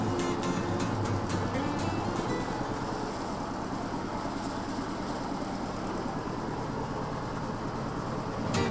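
A motorized cassava grating machine runs continuously with a loud, rough mechanical drone and some rattling clatter near the start, steady throughout with no voices.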